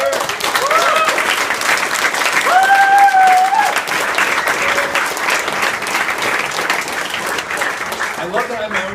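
A rally crowd in Ottawa applauds and cheers for a political leader, dense continuous clapping with whoops and shouted voices riding on top, loud and close throughout.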